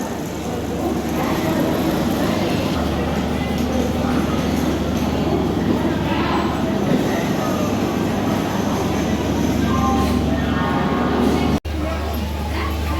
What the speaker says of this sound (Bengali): ট্রেন ঢুকছে এখন